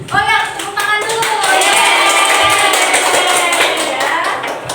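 A classroom of young pupils claps hands together during a microteaching lesson, a dense burst of clapping that starts strongly and carries on steadily for several seconds, with voices mixed in.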